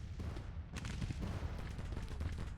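Rumbling cannon booms and scattered musket fire from a Civil War battle in the strategy game Grand Tactician: The Civil War, with a continuous dense low roar of distant volleys and no clear separate shots.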